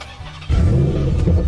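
A red car's engine cranks into life after a brief quiet lead-in, then revs with a loud, close, low roar that holds for the rest of the moment.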